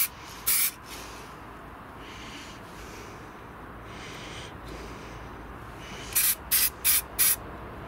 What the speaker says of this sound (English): I'm going to be using spray paint.